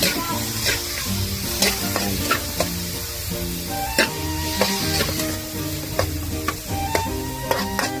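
Pansit ingredients sauté in a hot pan, a steady sizzle with frequent clanking stirs and scrapes of a utensil throughout, close and fairly loud, with no talking.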